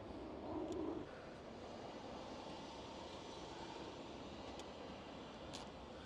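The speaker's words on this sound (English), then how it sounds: "I've got a big ass plane going over," An airplane flying overhead produces a broad, steady roar that stays at an even level throughout, with a slightly louder swell near the start.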